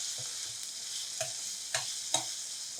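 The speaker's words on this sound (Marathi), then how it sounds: "चांगलं 5 ते 7 मिनिटं हे सारण परतवून घ्यायचं." Stuffing for bharli dhobli mirchi, stuffed bell peppers, sizzles gently in a pan as it is sautéed, with three distinct clinks of a spoon or spatula stirring against the pan over a steady frying hiss.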